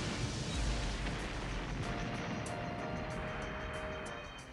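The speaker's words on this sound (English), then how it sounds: "After firing the bazooka towards the wall of the temple" A bazooka fired at a temple wall in a video game gives a loud, sustained rumbling blast with a heavy low thud near the start, then a long roar of debris that slowly fades, with no talk.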